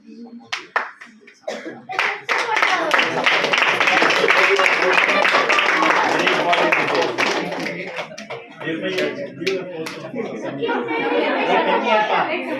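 Lively crowd applause with scattered claps and excited chatter for Miss Bahake receiving a Special Supporter Award, dense and close, rising after a few sharp opening claps and continuing under voices.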